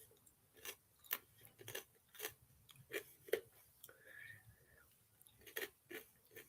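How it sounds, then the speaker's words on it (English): Chocolate snack chewed loudly close to the mic, a rhythmic series of crunchy bites and wet mastication spread across several seconds. "I'll probably chew real loud too."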